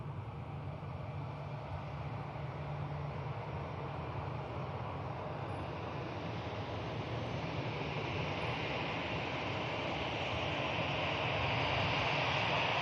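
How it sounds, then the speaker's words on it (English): An easyJet airliner arriving at Manchester Airport after a flight from Amsterdam gives a steady, distant engine rumble and rush that holds evenly and grows slightly louder toward the end, with no voices. "EasyJet just arrived in from Amsterdam"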